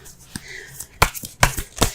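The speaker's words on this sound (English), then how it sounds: "let's go ahead and pull some cards here" Tarot cards are shuffled and pulled in a few quick, crisp riffling bursts and snaps, close and clear, with small pauses between.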